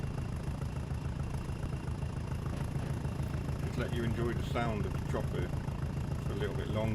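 A Class 20 diesel locomotive engine from a train sim video game runs at a steady, throbbing idle throughout, with someone talking over the constant chug.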